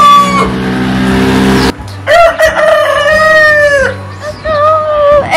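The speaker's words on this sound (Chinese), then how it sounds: "真的有听公鸡的叫声起床" A rooster crows loudly and close by in a rural-sounding morning setting, the long drawn-out call ringing out after a stretch of background noise, with other fowl faintly audible.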